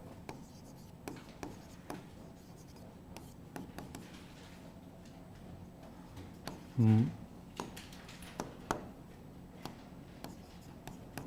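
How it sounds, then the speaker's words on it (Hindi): A pen scratches across paper in short, intermittent strokes, faint and close, with brief talking partway through. "अगला लिखेंगे वुडवर्थ"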